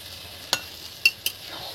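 A spoon stirs marinated mutton curry with potatoes frying in a pan, giving a few sharp scraping clicks over a low, steady sizzle, close and without talk.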